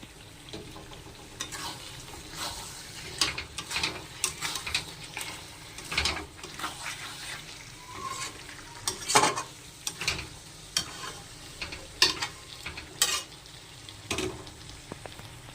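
Chicken being stir-fried with meat masala and a splash of water, a steady, fairly quiet sizzle broken by repeated scraping and clacking of a spatula against the pan at an irregular rhythm.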